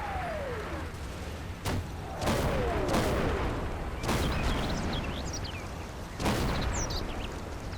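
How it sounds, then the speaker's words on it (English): Mortar barrage in Combat Mission, a Normandy wargame depicting Operation Bluecoat: several heavy booming impacts land at intervals of a second or two, each with a sharp onset and rumbling decay, one shell whistling down faintly before it strikes. "That should be my mortars coming in, that fire for effect order."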